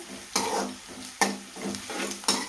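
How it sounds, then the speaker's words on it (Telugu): Onions and green chillies frying in hot oil with a dried red chilli and tempering seeds, stirred three times with sharp scrapes over a steady sizzle, no voices. "గోల్డ్ కలర్ వచ్చే వరకు ఫ్రై చేసుకోవాలండి"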